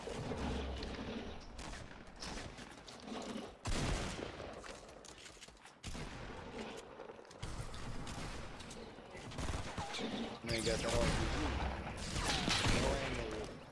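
Rapid video game gunfire rattles through the whole stretch in dense, loud, nearly continuous bursts, with only a few brief gaps.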